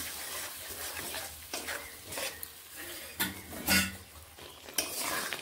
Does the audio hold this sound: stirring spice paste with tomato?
yes